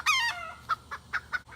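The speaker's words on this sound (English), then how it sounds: "sorry, there was a little misunderstanding between 2 roosters." Two roosters squabble nearby on a small farm, one harsh squawking call followed by four short sharp clucks in quick succession.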